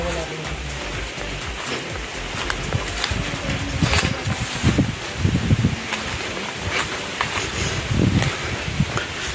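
Steady wind rushes through trees on a hillside coconut property outdoors, broad and continuous, with a voice talking underneath and some handling bumps.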